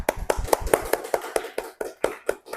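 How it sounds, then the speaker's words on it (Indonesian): A small classroom group clapping for group 3 after their presentation, a dozen or so distinct claps in a loose, slowing rhythm, fairly close and clear with no talk. "Ya, tepuk tangan untuk kelompok 3."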